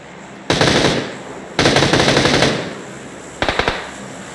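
Automatic fire from a Groza rifle in a shooter video game arrives as three close, loud bursts of rapid shots, the last one short, with no talk over them.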